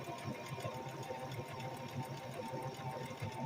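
Sewing machine stitching a wool diaper cover, a steady fast rhythmic clatter at moderate volume, close by and continuous with no talking.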